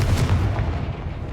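A single Confringo blasting spell from Hogwarts Legacy lands as a deep, close boom that rumbles briefly and then fades, with no one speaking.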